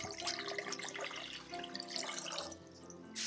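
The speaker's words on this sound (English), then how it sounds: "I'll add 4 to 6 cups of water in a saucepan over medium heat." Water runs steadily from a tap into a saucepan, filling it for split pea stock for Trinidad corn soup; a continuous, close splashing pour with no talk.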